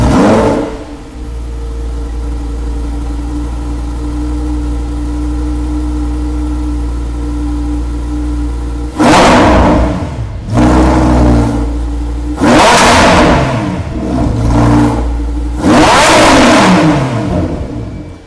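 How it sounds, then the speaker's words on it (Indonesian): A car engine idles with a deep rumble, then revs sharply three times in loud, roaring bursts that fall back between each. "Dan pastinya mesin ini punya suara yang sangat menggelegar."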